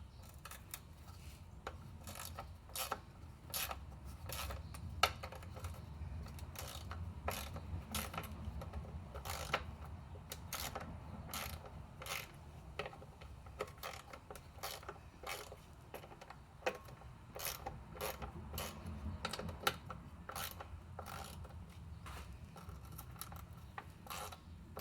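A socket ratchet works loose the 10 mm lower oil pan bolts on a BMW E39 540i, giving a long run of quick, sharp clicking bursts over a low rumbling background, close and steady throughout.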